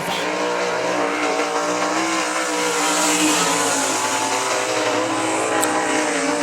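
A winged sprint car on a qualifying lap at I-96 Speedway screams past with a loud, steady high-revving engine whose pitch shifts as it goes by, with no talking.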